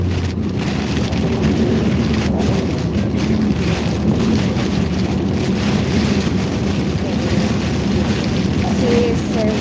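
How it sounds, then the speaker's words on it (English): Heavy rain and gusting wind of a Tennessee thunderstorm roar continuously near I-65, a loud, dense wash of rain and buffeting wind noise across the whole stretch. "Lots of lightning, lots of rain, and the wind's gusting probably 40 to 50 right now where we're at."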